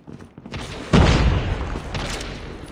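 A frag grenade detonates in Call of Duty Mobile, a single heavy, close boom with a sudden loud onset that settles into a rumbling tail with scattered debris and gunfire-like crackle.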